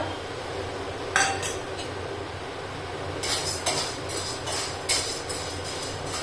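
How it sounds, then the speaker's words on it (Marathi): Chana dal is dry-roasted in a pan, heard as scattered light rattles and scraping clinks of lentils and utensil against metal, in short bursts over a quiet background hum. "आता आपण भाजतोय चण्याची डाळ"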